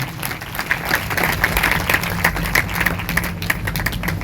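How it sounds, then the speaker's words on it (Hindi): A church congregation at a Sunday service claps loudly and steadily, many hands producing a thick continuous patter over a low background hum. "सभी जोर से तालियां बजाएंगे"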